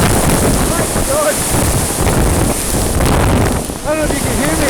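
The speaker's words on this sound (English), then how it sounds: "It's so windy!" Strong gale-force wind buffets the microphone on the shore at Lochranza, a loud roaring rumble with gusty swells throughout, while voices briefly cry out under it.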